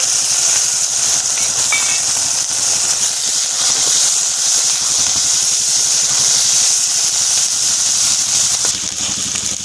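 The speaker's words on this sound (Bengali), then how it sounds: "কেটে রাখা চিটি কাঁকড়াগুলো দিয়ে দেবো।" Chiti crabs frying in a pan with chopped onion, garlic and slit green chillies make a loud, continuous hissing roar that holds steady almost the whole time and eases slightly near the end.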